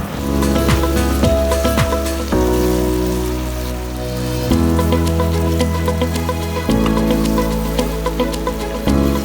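Ground ginger, garlic and onion sizzle loudly in a hot pan for a spicy prawn pickle, a dense continuous crackle and hiss like rain that keeps up steadily throughout.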